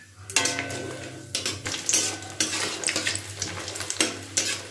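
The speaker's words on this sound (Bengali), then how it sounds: "তেলটা গরম হয়ে গেছে, বড়িটাকে ভেজে নিচ্ছি সবার প্রথমে" Bori lentil dumplings frying in hot oil, a loud, close, bubbling sizzle with intermittent scraping and clattering from stirring in the pan.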